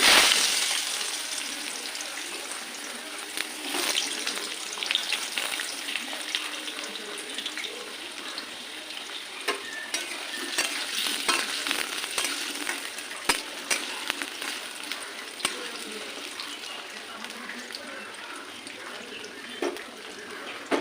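Potatoes frying in a pan with a tempering of bay leaf, dried red chilli and cumin, for a vegetarian cauliflower curry, give a steady close sizzle with scattered sharp crackles and pops throughout, with no talking.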